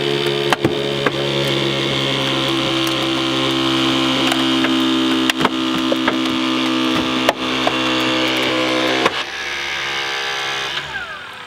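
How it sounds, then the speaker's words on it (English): A Genesis E-Force hydraulic rescue ram drones with a steady loud electric hum as it pushes a vehicle dash outward during extrication training, broken by a few sharp clicks and creaks before the motor stops near the end. "I can take the Genesis E-Force ram and turn it outwards, making this much more room for patient access."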